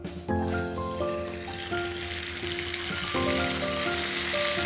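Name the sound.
papad frying in hot oil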